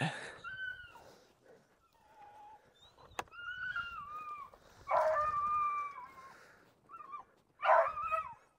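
A dog nearby whines and whimpers in high, wavering cries, with a few sharp barks mixed in and some faint background noise.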